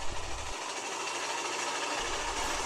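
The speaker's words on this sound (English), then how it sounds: "I want to see the motor run the saw and see how well it goes" A refurbished Ridgid 4x6 bandsaw running on its newly installed motor gives off a steady, broad mechanical whir and hum. The noise holds even and close throughout, with a slight low-end drop partway through, and no talking.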